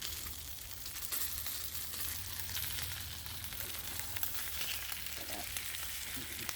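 Bacon fries in a small pan with a steady, close hiss and fine crackle that holds evenly throughout, with only a few faint pops and no voices.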